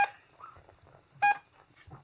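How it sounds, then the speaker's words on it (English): Shipboard collision alarm in a science-fiction radio drama, sounding as sharp electronic beeps: one short blast at the start and another near the middle, each followed by lower rumbling effects. "you've heard the collision alarm"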